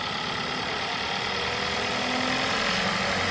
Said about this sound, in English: The vehicle idled up for a second. Went into high idle as if it was actually negative 40 degrees.